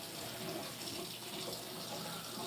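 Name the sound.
rinsing a pan under running tap water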